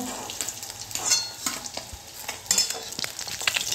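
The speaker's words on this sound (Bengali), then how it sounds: "তো বন্ধুরা আমার মাছটা ভাজা হয়ে গেছে।" Fish fries in hot oil for a village-style fish curry, giving a loud, crackling sizzle broken by stirring and scraping in the pan, with no talking.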